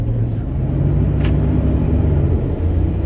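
A pickup truck with a fault that had kept it from revving past 2000 RPM drives along the road on a test drive, giving a steady, loud, close rumble of engine and tyres throughout, with no talk.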